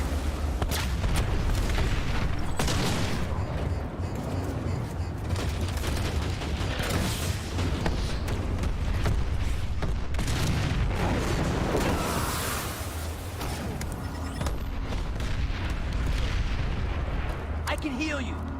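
A grenade blast in a first-person shooter video game lands amid steady gunfire and repeated booming explosions. Voices talk over the loud, continuous battle.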